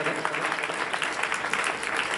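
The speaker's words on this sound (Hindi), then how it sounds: "जोरदार तालियों से मैं चाहूँगा आप उनका अभिनंदन करें।" An audience at an award ceremony applauds with steady, dense clapping that stays loud and even for a couple of seconds, with no voices on top.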